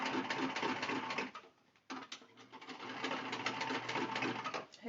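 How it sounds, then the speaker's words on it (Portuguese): Sewing machine stitching a seam on a fabric car trash bag with pockets, a steady rapid mechanical whir that runs close and loud, pauses briefly, then resumes and continues to the end. "Rebati a costura."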